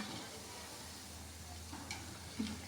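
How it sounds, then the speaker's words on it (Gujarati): Bread pakoda rolls frying gently in oil over a low flame make a soft, even hiss with faint pops, quiet and close, with no talking. "હવે આપણા રોલને ગોલ્ડન થાય ત્યાં સુધી ધીમા તાપે તળવાના."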